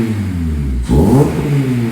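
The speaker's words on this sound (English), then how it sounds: "That's a lovely sounding exhaust." A Honda Civic Type R FN2 with a Japspeed manifold and Tegiwa 70mm exhaust revs on a dyno, a steady idle rising into one loud blip that resonates in the room before settling back.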